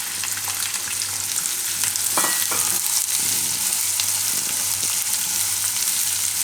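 Onion sizzling in hot oil with red chilli for dahi paneer bhurji, a steady close frying hiss with occasional stirring scrapes throughout.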